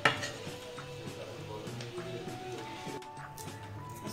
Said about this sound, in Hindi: अच्छे से मैश कर लेते हैं